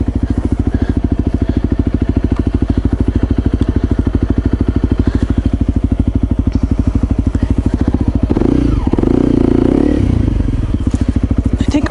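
A dual sport motorcycle engine runs steadily and loud throughout while its rear tire spins, with a brief surge of revving and scraping near the end.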